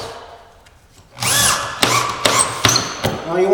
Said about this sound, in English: it's just a drill with a clutch in it